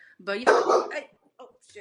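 A dog gives a couple of loud, close barks indoors while someone talks over it.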